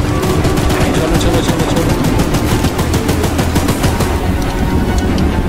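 Rapid automatic gunfire aimed at the train monster in the Choo Choo Charles horror game, a dense, loud, steady stream of shots with a voice urging haste over it.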